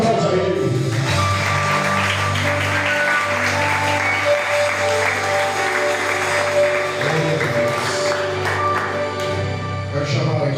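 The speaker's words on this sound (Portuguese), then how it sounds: "aplauda a Ele" A church congregation applauds under sustained music with steady keyboard tones, the clapping blending into the music rather than standing out in clear strikes.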